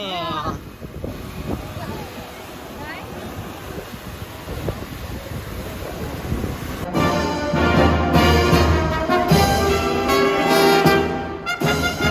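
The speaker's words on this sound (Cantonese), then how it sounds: "好彩到有風咋。" Wind gusts blow outdoors against the microphone, rumbling steadily and swelling louder midway, with people talking over it.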